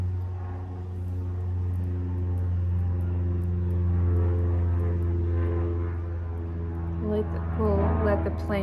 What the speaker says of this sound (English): The plane wanted to make an appearance today.